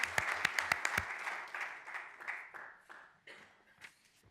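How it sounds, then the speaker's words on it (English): Audience applause at a transit board of commissioners meeting, a brief burst of scattered clapping that starts crisp and tapers into softer, thinning claps. "And again, let's recognize and applaud Sandy Sanders."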